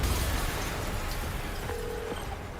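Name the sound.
explosion, from a video game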